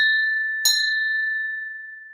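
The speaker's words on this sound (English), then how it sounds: "Then Grandpa Pig tells Peppa to ring the bell." A single bell struck once aboard a small boat, a bright clear ding that rings on with a long, slowly fading tone.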